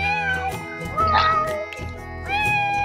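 A cat meows in The Sims 4, a few drawn-out tonal mews with short pauses between them, heard up close alongside a brief spoken word.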